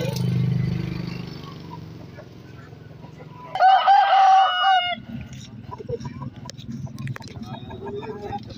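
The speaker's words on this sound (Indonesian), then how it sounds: "Mbah Amin, pedagang ayam kampung atau cengkeran di Pasar Sumjuk" Village chickens at a market stall in Sumpiuh, Banyumas: a rooster crows loudly and close midway through, with softer clucking and market chatter around it.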